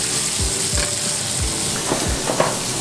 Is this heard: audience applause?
no